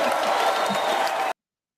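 Audience applause at a comedy show, a dense wash of clapping from the crowd lasting just over a second before cutting off abruptly.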